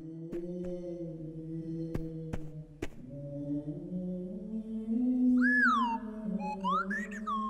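In the Clangers cartoon, the Tin Bird sings strangely: sustained wavering whistle-like tones hold steady, a few sharp clicks come early, then swooping high chirps rise and fall near the end.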